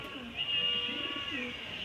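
Pigeons in a loft, racer and homer breeds, give soft low coos that rise and fall in short repeated phrases over a steady hiss, with a quiet voice faintly underneath.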